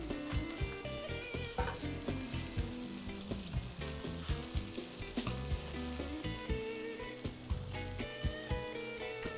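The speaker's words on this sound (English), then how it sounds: "we're gonna put them in that pan, and we're just gonna char them a little bit just to bring out that corn flavor" Corn tortillas char in a hot skillet, giving a steady crackling sizzle with frequent sharp pops and clinks in a lively, uneven rhythm, close and fairly loud, with no speech.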